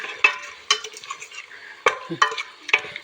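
Thai red curry paste for kaeng tepo is stirred into coconut milk in a pot, heard as distinct scraping and clinking strokes of a spoon, about six in a few seconds, over a quiet background.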